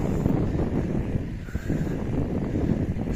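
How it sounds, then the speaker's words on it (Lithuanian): Wind roars steadily across the microphone outdoors during a bicycle ride on the road toward Juodkrantė on the Curonian Spit, a loud, continuous low rumble with gusty swells and no talk. "vėjukas biškį pučia"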